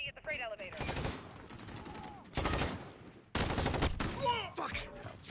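Gunfire in the shooter game Modern Warfare, several loud close bursts of rapid automatic fire with short gaps between them, while a voice shouts over the shooting.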